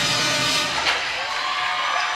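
A large crowd at a high school boys basketball game roars in a steady, dense wash of cheering and shouting that stays loud and unbroken throughout, with no single voice standing out.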